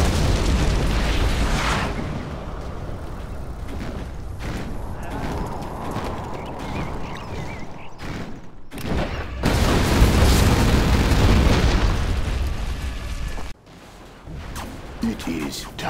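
Nuclear missile explosion in Command & Conquer Generals Zero Hour, loud rumbling blasts and crackling booms rolling on and off over several seconds, with dense low-end roar that surges again near the end.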